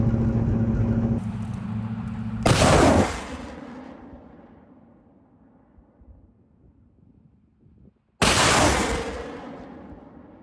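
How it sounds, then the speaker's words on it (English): A BM-21 Grad multiple rocket launcher firing: sharp roaring whooshes of rockets launching, with one burst around the middle fading into a long rumble and a second loud blast near the end, heard over a vehicle engine drone. "They are now finalizing the last preparations to hit targets from Grad multiple rocket launcher system."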